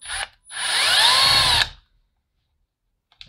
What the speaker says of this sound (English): Make sure you set your drill.